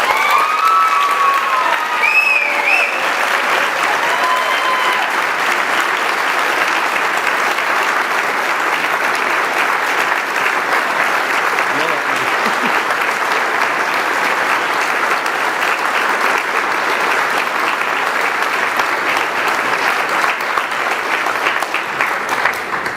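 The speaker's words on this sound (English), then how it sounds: "Please join me in a round of applause for Captain Dusten Chambliss." At the 2015 United Fire Firefighter of the Year award presentation, a large audience applauds a fire captain with a long, loud, steady round of clapping. A few faint cheers rise near the start.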